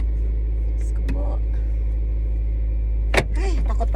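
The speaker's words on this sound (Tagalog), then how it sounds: "Okay lang, nasa kotse naman ako." A car interior while driving at night, a steady low engine and road hum filling the cabin, with a few brief voice sounds and a short thump near the end.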